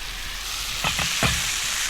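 A ribeye steak sizzles on a stainless steel camp griddle outdoors, with a steady close frying hiss and a couple of brief louder crackles or shifts of the meat. No one speaks.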